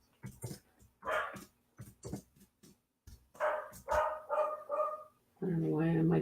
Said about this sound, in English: I don't know why my dog's barking now